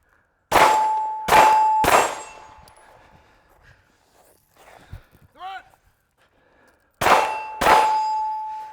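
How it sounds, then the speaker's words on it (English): Rifle shots strike steel targets during a tactical shooting drill, with three sharp, ringing metallic clangs in quick succession, then quieter shuffling and a voice, then two more loud ringing hits. "I'm shooting twice, I can't help it."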